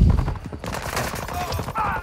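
Rapid gunfire bursts in a shooter video game, dense and close, mixed with game effects and a brief voice.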